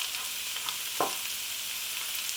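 Mushroom and pepper stroganoff simmers and sizzles in a pan with a soft, constant hiss, broken once by a single spoon scrape as it is stirred.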